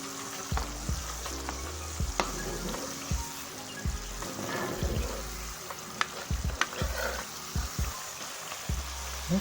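Homemade coconut oil frying away in a pot, a steady bubbling sizzle with irregular pops and crackles up close, some stirring clatter.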